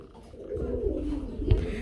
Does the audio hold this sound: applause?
no